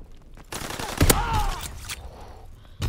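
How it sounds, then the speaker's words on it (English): A combat shotgun fires in a World War II video game, with a few loud booming blasts amid gunfire and some faint talk. "combat shotgun"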